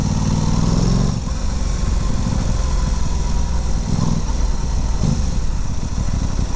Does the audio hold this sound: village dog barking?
no